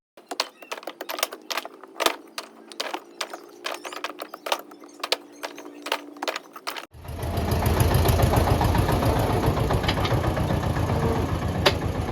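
Sharp irregular clicking and tapping at first, then a tractor's loud, steady engine rumble sets in and idles continuously until the end.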